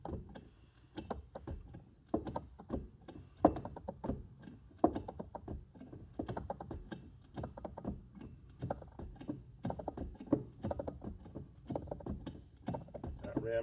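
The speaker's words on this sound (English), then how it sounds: "We can hear that wood creaking." Wood creaking and cracking as a hydraulic ram loads a joist hanger: a dense run of sharp, irregular ticks and snaps, close and fairly loud, continuing unevenly throughout.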